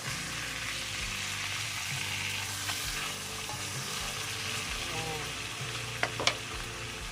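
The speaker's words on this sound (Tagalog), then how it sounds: "Iluto lang po natin sa butter" Salmon fries in butter in a pan, giving a steady, close sizzle with soft stirring scrapes and a couple of sharp pops near the end, and no talk.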